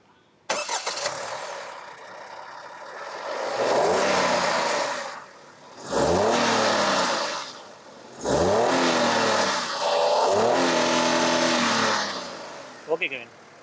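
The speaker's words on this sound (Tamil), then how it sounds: "இந்த என்ஜினை நான் ஸ்டார்ட் பண்ணி காமிக்கிறேன் ஸோ தட் இந்த என்ஜினோட ரேவ் நோட் உங்களால் கேட்க முடியும்" A Maruti Celerio car engine cranks and catches, then settles to idle and is revved three times in long rising-and-falling swells, loud and close, with a short blip at the end.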